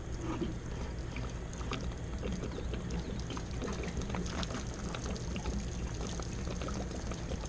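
Water pours steadily out of an RV water heater tank in a continuous rushing, splashing stream with no pauses and no voices.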